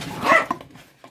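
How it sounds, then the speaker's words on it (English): A puppy plays indoors with cats and lets out a short, close bark or yip followed by softer whimpering sounds, heard without speech. "That's the puppy dog playing with them."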